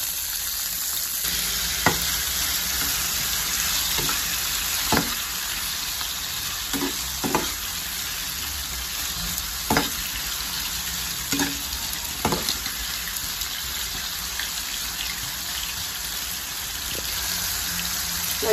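Tomatoes sautéing with ginger for tilapia sarciado, a loud continuous sizzle broken by repeated stirring scrapes and clanks of a utensil in the pan.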